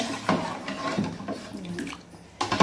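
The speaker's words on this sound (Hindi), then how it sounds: "ये इसमें 2 kg मैं पानी डालूंगी" Water poured from a container into a pot of fried beef being cooked for beef pulao, a steady splashing pour that rises and falls over a couple of seconds, close and moderately loud with no talk.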